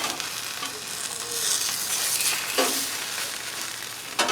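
A smash burger cooks on a Blackstone griddle with a constant close sizzle, broken by a couple of brief scraping bursts near the end.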